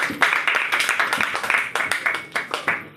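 An audience claps as a girl comes up to the stage to give a speech. The claps are rhythmic and fairly loud, from a modest group, with distinct separate slaps that thin out toward the end.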